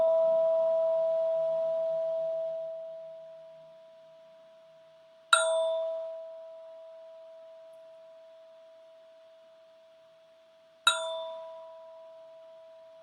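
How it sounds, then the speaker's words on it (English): A mindfulness bell rings out clearly, its pure tone fading slowly over several seconds, then is struck twice more at roughly five-second intervals, each strike bright and close before a long decaying ring. "listen as closely as you can to see if you can actually hear the moment the bell begins to the moment that the bell ends"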